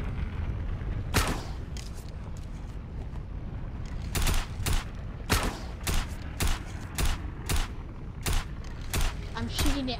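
Repeated gunshots from a video game firefight, sharp loud bursts spaced irregularly through the clip over a steady rumbling background, with a few closer, heavier reports in the second half.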